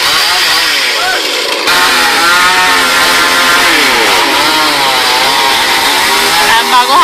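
Chainsaw cutting branches from the top of a tree, loud and close, the engine revving up and down in wavering surges as the blade bites, running continuously for several seconds.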